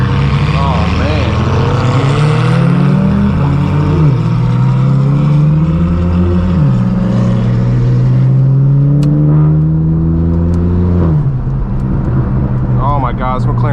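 Straight-piped BMW M4 F82 driving hard with a loud, raw exhaust, holding a continuous roar that rises and falls through several rev sweeps and shifts, close and dominant throughout.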